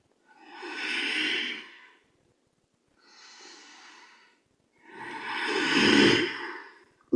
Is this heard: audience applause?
no